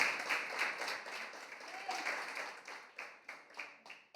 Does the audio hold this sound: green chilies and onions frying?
no